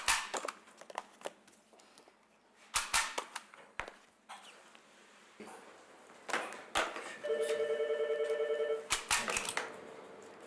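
A telephone rings in a domestic interior, a burst of rapid electronic ringing near the end amid knocks, clatter and other household noises.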